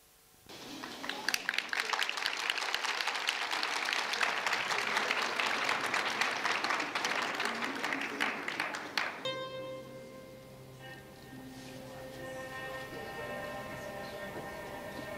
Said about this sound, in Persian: خواهش میکنم یه تشویق خودتون رو بفرمایید